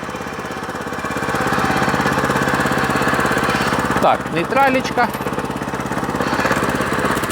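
Walk-behind tractor engine fitted with MODERN attachment chugs loudly and steadily, briefly dipping as it is shifted to neutral mid-clip before running on; someone speaks over it.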